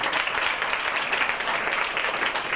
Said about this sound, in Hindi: सबसे पहले ताली बजाते हैं